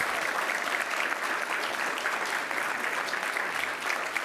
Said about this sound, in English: Let's give a huge round of applause to Catherine Garcia